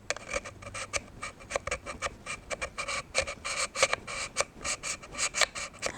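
Small hone rasping along the blade of electric sewing scissors, a rapid run of short, close scraping strokes in steady rhythm, fairly quiet with no talk.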